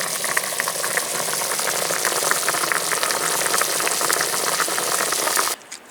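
Turkey wing bones boil hard in a pot of water with peroxide added, a dense, steady bubbling and popping that stays loud and even, then cuts off abruptly near the end.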